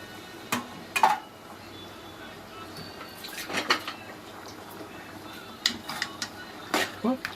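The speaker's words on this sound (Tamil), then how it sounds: "நல்லா மசாலாவை கிளறி விட்டு அந்த உருளைக்கிழங்கு பூரா பார்த்தீங்களா, அப்படியே மசாலா" Spoon clinks and scrapes as potato masala gravy is stirred in a metal pan, a few sharp scattered knocks against the pan with soft background room noise between them.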